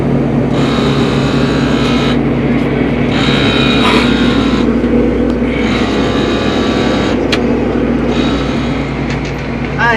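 An R series tractor engine working in a muddy field, a loud, continuous low drone with bursts of brighter mechanical rattle rising and falling every couple of seconds.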